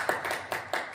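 An audience at a Hindi poetry gathering claps, with four fairly even hand claps in a steady rhythm, faint and a little distant.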